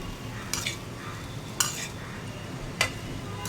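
A spoon stirs vegetable pulao with a Maggi cube in a pot, giving three short scraping strokes at intervals over a quiet background.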